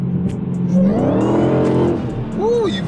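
A Corvette C8 or Redeye Hellcat engine revs loudly under acceleration from inside the car, the pitch rising steadily, with voices talking over the roar.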